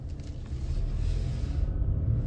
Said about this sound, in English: Usually if you stop, you can hear the garbage trucks